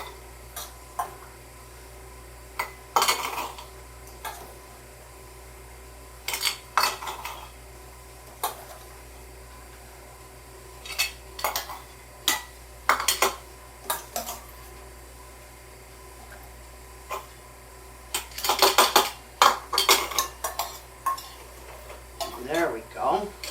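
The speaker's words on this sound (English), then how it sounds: "I'm going to put about a half a cup of onions in each one of these." Chopped onions being spooned into glass canning jars for home-canned chicken à la king: sparse, irregular clinks and taps of a spoon on glass between quiet pauses, with a busier cluster of knocks near the end.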